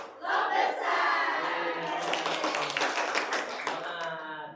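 A group of schoolchildren in a classroom clap together in a patterned rhythm game, the claps quick and close, with voices chanting along over them.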